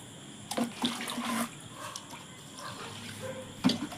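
Water poured from a container into potted plants, heard as brief intermittent splashes and trickles at close range, fairly quiet overall, with no speech.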